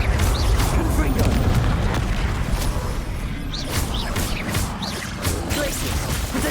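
Repeated fiery blasts of the Confringo explosion spell in Hogwarts Legacy, a string of booming bursts and crashes over steady game background, with a voice talking in places.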